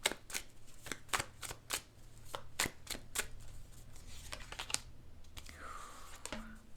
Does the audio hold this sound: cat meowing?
no